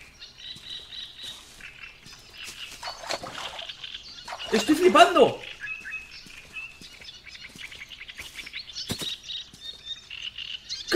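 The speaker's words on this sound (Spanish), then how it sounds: "¿Por qué hay un cuervo ahí?" A crow squawks and flaps its wings inside the Hello Neighbor: Hide and Seek video game, a short loud burst in the middle over ambient game sound, with someone talking excitedly throughout.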